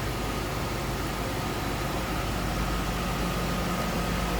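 A 2002 Ford Thunderbird convertible's engine idles steadily, a smooth, even mechanical hum with a faint whine, heard close and alone without any talking.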